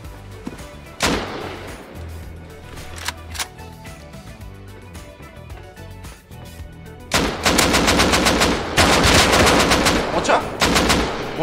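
Rapid bursts of gunfire in Rust, sporadic shots early on, then dense sustained automatic fire over the second half, loud and close.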